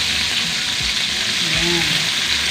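Pork frying in a pan with browned onions gives a loud, steady, dense sizzle and crackle throughout, with a few soft clunks underneath.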